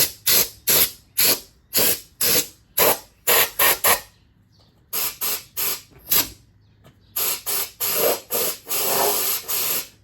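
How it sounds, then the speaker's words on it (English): Repeated short bursts of aerosol rust-proofing spray hiss in quick rhythmic pulses on a fourth-generation Toyota 4Runner rear bumper, pause briefly, then resume in longer sprays, close and fairly loud. "And so I'm gonna go ahead and spray it now"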